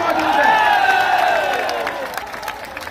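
A large crowd roars and cheers at a political rally at a crossroads in Burhanpur, a loud swelling shout that tapers off over a few seconds.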